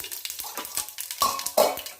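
Hot oil for crab curry crackling in a pan, a brief close series of sharp spitting pops and sizzles with a faint metallic scrape near the end.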